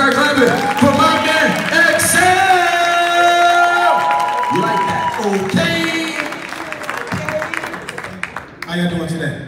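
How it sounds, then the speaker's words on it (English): Loud crowd at a competition event, clapping and cheering with whoops over pulsing music, a voice calling out above it, fading briefly before swelling again. "put your hands together right now, start clapping for my man"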